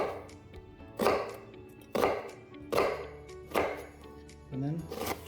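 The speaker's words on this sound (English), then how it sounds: "voila, diced onions" A knife chops through onion on a cutting board, making five distinct, fairly loud thunks at an uneven pace, with a short voiced sound near the end.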